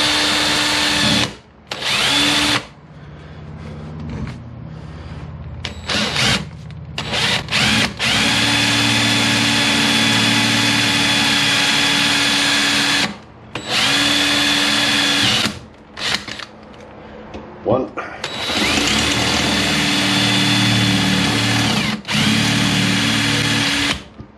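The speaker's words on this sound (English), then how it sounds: "I've got a sharp drill and all I'm gonna do is simply drill the heads" A power drill whines loudly in repeated bursts, drilling the heads off rivets on a 1998 Kawasaki ZX9R frame, stopping and starting several times, with brief gaps of near silence between runs.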